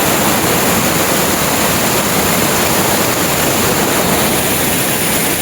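Loud, steady rush of flowing water at a river near a cave in Maasin City, a dense continuous wash of noise with no pauses and no voices over it.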